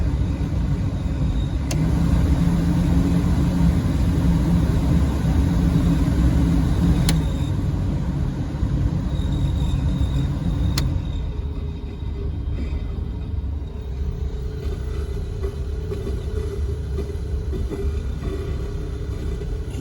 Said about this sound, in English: Does sound like the fan's slightly out of kilter.